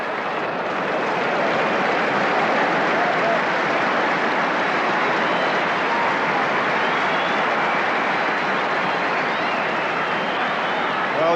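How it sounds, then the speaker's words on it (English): A rugby crowd at a 1983 Scotland XV versus Barbarians match applauds and roars in a broad, steady wash of clapping and cheering that carries on unbroken and loud throughout. "you can tell how the crowd are enjoying this"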